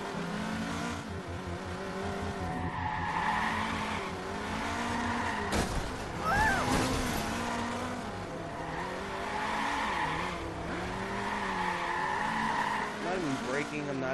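A car in the Watch Dogs video game skids with squealing tires while braking and turning, its engine revving underneath, with someone talking over the driving sounds.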